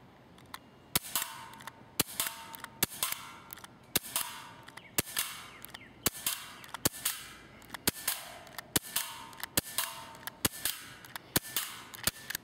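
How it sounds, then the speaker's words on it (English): Smith & Wesson M&P 40 CO2 airsoft pistol fired at a target, about fifteen sharp, snappy pops in an even, fairly quick rhythm, each with a brief ring, close and alone with no talk. "that was the Smith & Wesson M&P 40, and I shot that at this target right back there"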